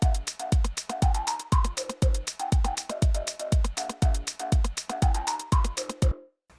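Synth lead recreating the one in a song, playing a bright, punchy melodic riff over a pounding kick drum in a steady four-on-the-floor rhythm, loud and close before stopping abruptly.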